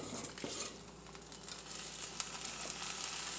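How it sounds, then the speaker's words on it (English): Freshly made sauce poured into a pan on a very low simmer for lasagna: a soft, steady sizzle and hiss, close and continuous, with a few faint clicks and no talking. "That's why you can hear it sizzling there as we put this nice liquid, nice sauce in there."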